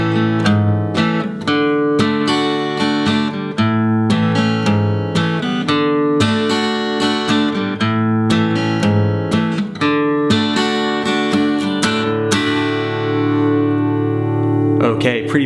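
A guitar plays the chorus of a song slowly, a loud sequence of plucked and strummed chords in a steady, deliberate rhythm, ending on a ringing chord with no talking.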